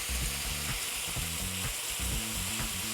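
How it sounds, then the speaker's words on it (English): Chicken and vegetables for fajitas sizzle steadily in a hot pan while being stir fried, with a constant loud frying hiss and occasional soft stirring knocks and no voices. "Continue stir frying."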